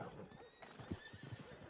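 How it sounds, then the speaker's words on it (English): Horse in the video game Red Dead Redemption 2, heard close with clip-clop hoof steps and a neigh, with no talk over it. "Is that your horse?"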